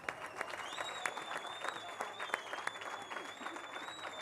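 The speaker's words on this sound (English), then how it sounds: "A nice round of applause for you guys." Applause for medal winners at a cycling race prize-giving, a steady round of clapping from a modest outdoor crowd, fairly faint and even throughout, with a high whistling tone running above it.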